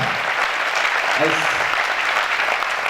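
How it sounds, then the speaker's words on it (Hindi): Dense, continuous applause from a large church crowd fills the whole stretch, with a brief voice heard faintly underneath. "आइए हम जोरदार तालियों से उनका स्वागत करें"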